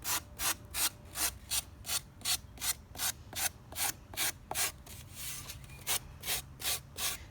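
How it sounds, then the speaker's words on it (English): Sandpaper block rubbed over styrofoam edges in a steady back-and-forth rhythm, about twenty close, even rasping strokes with brief pauses between them and no talking. "Now we're just going to take the block of sandpaper and smooth down all the edges."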